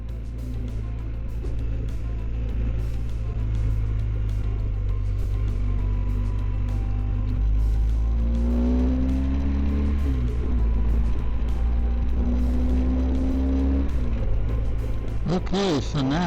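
Road traffic in busy Alberta, one vehicle after another passing with a steady engine rumble and rising and falling tones, a louder whoosh near the end, with a person talking over it.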